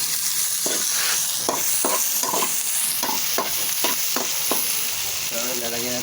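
Food sizzles steadily in a frying pan while a utensil stirs it in a series of regular scraping strokes, close and fairly loud, with no talk over it.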